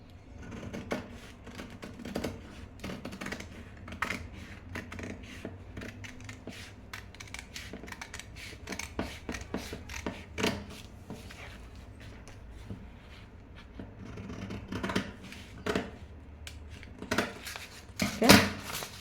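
Scissors cut fabric for a sleeve pattern, making repeated soft snips and crisp clicks in an uneven rhythm, close and fairly quiet, with light handling noises between the cuts and no talk.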